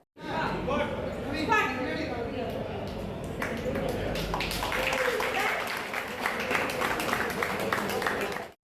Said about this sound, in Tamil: அப்போது அங்கு கூடியிருந்தவர்கள் கைத்தட்டி பாராட்டினர்